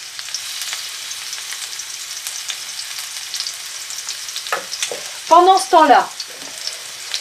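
Garlic purée drops into already boiling oil for vegetarian fried rice, a continuous crackling sizzle that suddenly flares into a loud, bubbling burst near the end, with a brief voice speaking early on.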